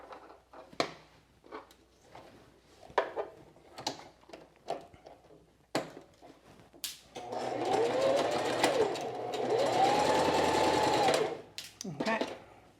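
After scattered handling clicks and a spoken voice, a sewing machine stitching quilted jacket layers runs in one steady, loud whirring burst of several seconds, then stops with a few clatters.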